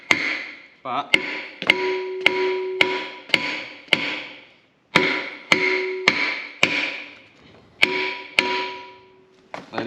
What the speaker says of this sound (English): Now I got a persuasion tool just to help bump it on a bit.